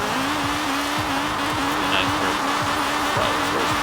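Honda Integra Type-R in Forza Horizon 4 doing a first-gear burnout on snow, engine held at a steady high-revving drone with rhythmic pulsing wheelspin, loud and close.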